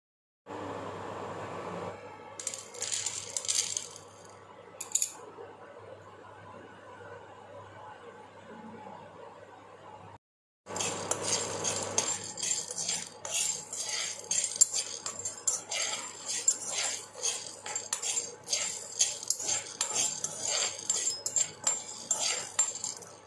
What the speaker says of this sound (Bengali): এবারে এই গোলমরিচ আর এই লবঙ্গগুলোকে আমি একটু শুকনো খোলা রোস্ট করে নেব